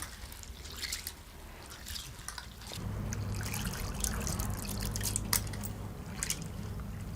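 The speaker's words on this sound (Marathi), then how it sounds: "डाळ आपल्याला स्वच्छ धुवून घ्यायचं आहे" Water trickles and sloshes as lentils are swished and rinsed by hand, a soft close-up splashing that grows busier halfway through.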